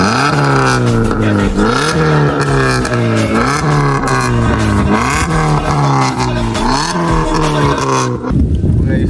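A modified Maruti Suzuki Baleno, 2025 model, with a cat-back exhaust revs hard and close, its engine note climbing and falling in repeated throttle blips before settling into a rougher idle near the end.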